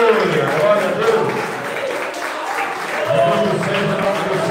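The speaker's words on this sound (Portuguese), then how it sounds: "Palmas para Jesus." A church congregation claps in praise during a Portuguese-language worship service, a loud, continuous wash of applause mixed with voices calling out.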